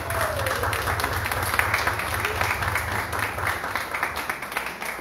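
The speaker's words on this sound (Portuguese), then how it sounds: "Uma salva de palmas para Jesus pela vitória." Church congregation applauding during a Portuguese-language service, a steady wash of clapping with a low rhythmic hum beneath and faint voices mixed in, continuous for the whole span.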